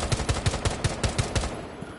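Rapid gunfire in a video game, played on a HORI TAC PRO controller, fires as a burst of about eight evenly spaced sharp shots over a second and a half, then stops.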